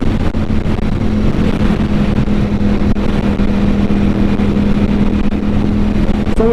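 A Ducati V4 Panigale motorcycle engine held at full throttle in sixth gear, a loud, sustained roar with a steady droning hum and rushing wind noise and no letup.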